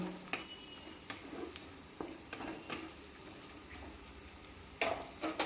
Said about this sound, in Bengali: আদা রসুনটাকেও আমি পেঁয়াজের সাথে একটু ভেজে নেব